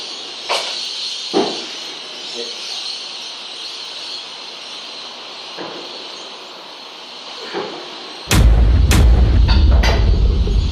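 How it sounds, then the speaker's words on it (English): Fireworks going off outdoors: scattered faint pops and thuds through the first eight seconds, then a sudden loud, dense burst of sharp cracks and deep booms that continues to the end. "Fireworks are going off, figuratively and literally."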